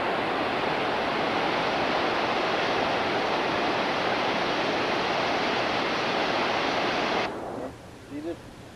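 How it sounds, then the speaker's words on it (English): Deep Creek Falls roars as a loud, steady rush of falling water, then cuts off abruptly near the end, leaving quieter background with a brief voice. "Here's Deep Creek Falls."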